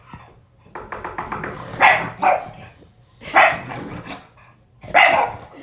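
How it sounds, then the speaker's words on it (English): Dogs bark in short bursts, with a quick run of small yips followed by several louder, sharper barks spaced apart, close and clear over a quiet background. "They snort more than they bark, I think."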